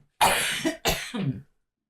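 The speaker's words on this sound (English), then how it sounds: "Are you catching my cough?" Two harsh coughs close up after choking on something swallowed wrong, a longer one followed by a shorter one, with a brief pause between them.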